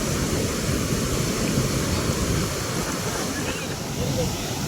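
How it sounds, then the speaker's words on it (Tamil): Water pours forcefully outdoors at a fishing spot, a loud, steady broadband rush close by that continues unbroken throughout with no clear pauses. "தண்ணி பாருங்க ஃப்ரெண்ட்ஸ், எவ்வளோ ஃபோர்ஸாக கொட்டிகிட்டு இருக்கு பாருங்க"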